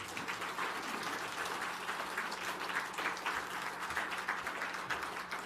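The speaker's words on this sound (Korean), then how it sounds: "나오실 때 박수로 뜨겁게 환영해 주시길 바랍니다." A church audience at a repentance prayer meeting applauds to welcome a pastor to the stage, steady clapping from many people with a faint hum beneath.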